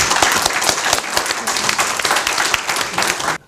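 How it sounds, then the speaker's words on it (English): The audience at a 20th-anniversary symposium applauds the panelists, bursting into loud, dense clapping that carries on evenly for a few seconds before cutting off abruptly. "I think we should give them a round of applause"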